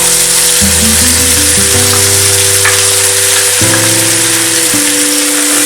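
A ground spice mixture frying in oil in a pan over a low flame, with a steady, dense sizzle running the whole time and an even loudness from start to finish.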